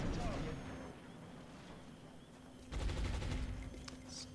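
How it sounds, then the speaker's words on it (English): Rocket launch and impact in the game XCOM Long War, a low rumbling burst with crackling blast noise that swells mid-clip, fairly faint and steady. "Rockets away."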